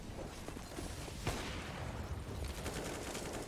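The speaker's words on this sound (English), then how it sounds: "isolates Freeman inside of that B site before wallbanging Bentet" Dense, continuous gunfire from a professional Counter-Strike match between Complexity and TYLOO at a StarLadder Major qualifier, with rapid overlapping shots and a sharper crack, and no voices over it.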